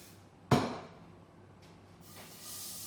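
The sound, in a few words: cooking oil spray onto hot pan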